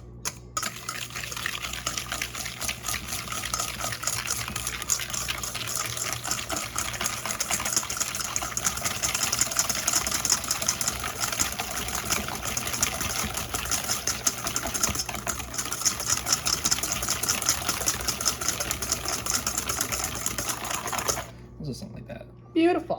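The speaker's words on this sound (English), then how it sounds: "Half a cup of sugar, and he's going to whisk it together." A KitchenAid stand mixer whisks egg yolks and sugar with a steady, continuous whirring drone that runs without a break and then cuts off near the end, while people talk over it.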